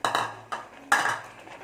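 Spoon scraping and clanking against a pot while sweet pongal with jaggery is stirred, three distinct scraping strokes, close and fairly loud with no talk.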